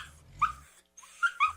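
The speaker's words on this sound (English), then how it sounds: "this is the sound of your dog having that recurring dog dream" Dog whimpering while dreaming, a few soft high-pitched squeaky whines and muffled yips in short bursts separated by brief quiet pauses, close and fairly faint.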